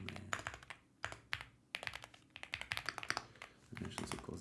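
Computer keyboard typing while writing puzzle-solving code, with bursts of quick close key clicks separated by short pauses, fairly quiet.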